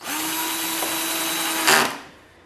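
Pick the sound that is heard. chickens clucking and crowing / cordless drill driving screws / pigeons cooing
cordless drill driving screws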